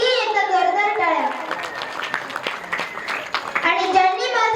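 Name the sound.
audience applause at a kirtan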